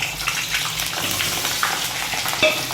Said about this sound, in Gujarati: તો આપણે બધી ડુંગળી છે ને એ તેલમાં નાખી દઈએ અને એને તળી લઈએ